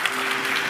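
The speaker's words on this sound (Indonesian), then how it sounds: "Kasih tepuk tangan teman." An audience at a religious talk breaks into applause, a brief dense burst of clapping heard up close.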